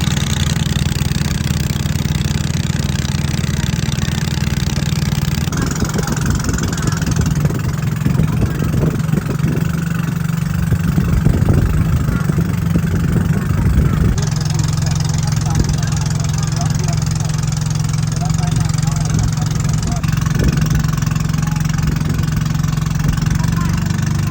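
A boat engine runs steadily as a large boat sets off, a loud low drone that shifts in tone partway through, with people talking over it.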